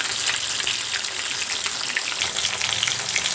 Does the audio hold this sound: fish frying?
yes